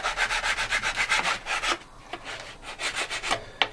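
Sanding or filing strokes round off and chamfer the edge of a GameCraft tank transport model part, a quick run of rhythmic rubs, a brief pause, then more scattered strokes, close and alone.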